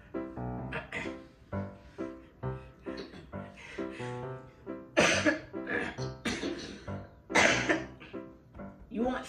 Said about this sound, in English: Some water with that cough?